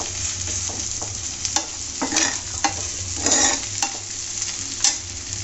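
Whole spices tempering in hot oil for beef kala bhuna, a steady sizzle with repeated scraping stirs and clicks of a spoon against the pan, close and without talk.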